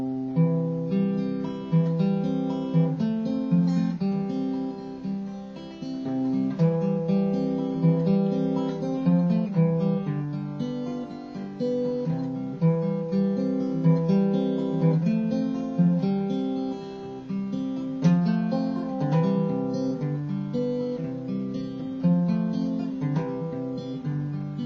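Fingerpicked acoustic guitar tune played steadily with hammer-on notes giving a doubled attack, bass and treble strings moving together, close and clear with no talking.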